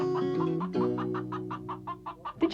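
Farm hens clucking in a short series of soft, rhythmic calls over a sustained musical tone, with no talking.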